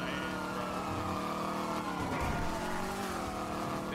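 A Bugatti races in the GTA V NoPixel roleplay game, its engine roaring steadily with harmonic whine and a brief swoop around the midpoint that may be a skid or gear change, loud and close with no talk.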